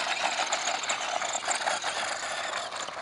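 A Tamiya Holiday Buggy on the DT-02 two-wheel-drive chassis with a Sport Tune electric motor whines steadily at high pitch as it runs, a continuous buzzing drone with slight rise and fall, heard alone and fairly close.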